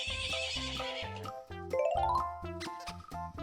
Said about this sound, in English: Horse, a powerful farm animal used for transport, work, and sport.